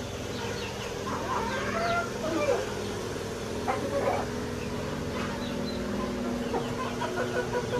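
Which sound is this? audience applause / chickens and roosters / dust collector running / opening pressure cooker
chickens and roosters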